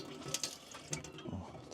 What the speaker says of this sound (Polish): Odkręćmy ciepłą wodę.